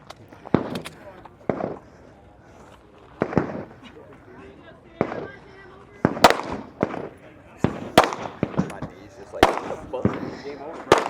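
Single gunshots at an outdoor competition shooting range, rifle and then pistol, crack out one at a time at irregular intervals, with some quick pairs. The sharp reports ring over a quiet background.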